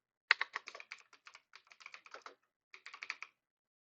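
Fingers type on a computer keyboard in a quick close run of light key clicks, a short pause, then another brief burst.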